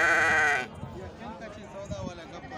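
A large dumba sheep at a Bakra Eid livestock market in Mandi Gali Jageer gives one loud, close, quavering bleat, then someone talks over faint market noise.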